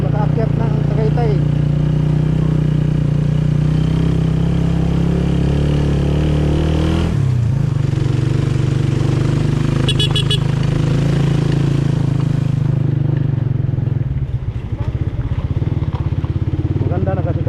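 A Suzuki Raider 150 motorcycle engine drones steadily while climbing the road to Tagaytay, with a shift in pitch partway through and wind rumble throughout, as someone talks over it.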